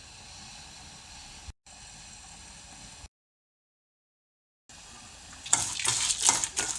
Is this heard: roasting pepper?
yes